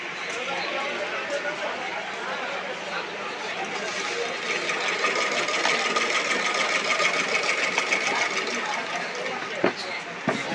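A hand sewing machine being set up at home stitches with a steady, rapid mechanical whir that runs for several seconds while people talk nearby.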